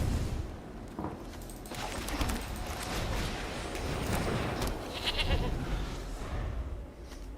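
The Possessed Goat card in the MtG Arena digital card game plays its effect with a bleating goat cry layered over rumbling, crackling game sounds. The noise swells and fades over several seconds.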